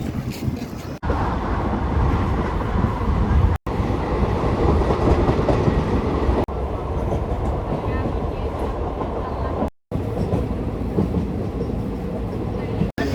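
Pinakini Superfast Express running on its tracks between stations, a steady loud rumble of wheels and carriage noise with wind buffeting, broken by a few brief dropouts.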